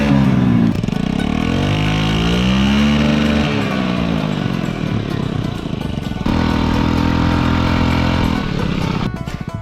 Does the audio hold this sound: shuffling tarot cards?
no